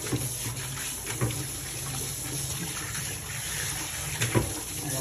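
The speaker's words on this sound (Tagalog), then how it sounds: "Hugasan na natin itong nalinis natin na to." Tap water runs steadily over cleaned cooking ingredients such as bell pepper in a sink, a close continuous rush with occasional splashy bumps and no talking.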